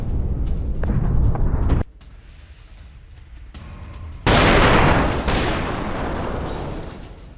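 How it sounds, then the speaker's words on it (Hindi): Heavy blasts as a Hezbollah military depot rigged with mines is blown up, a booming rumble followed by a sudden loud explosion whose roar decays slowly, captured in a news report. "माइंस लगाकर डिपो को उड़ा दिया गया। धमाकों में हिजबुल्लाह को भारी नुकसान हुआ है।"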